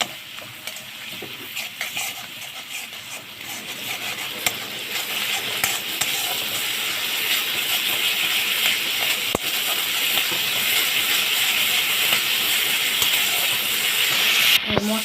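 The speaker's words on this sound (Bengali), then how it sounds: "এবার এই সব উপকরণগুলোকে দিয়ে আমি মশলাটা ভালো করে কষে নেব।" Ground coriander, cumin and chili powder spice masala sautéing in a pan for keema, a steady close sizzle with frequent stirring scrapes, rising slightly louder toward the end, no talk.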